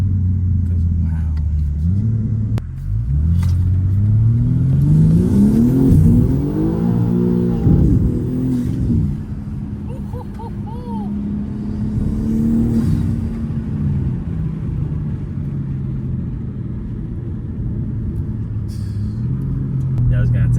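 A BMW G80 M3 running new intakes and stock exhaust revs repeatedly, its engine rising and falling in loud, rumbling sweeps close by, with people talking over the noise.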